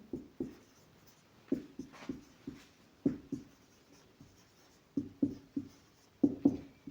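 Pen writing on paper while noting a temperature for a maths exercise, irregular short strokes and taps in small clusters, close and clear with no speech.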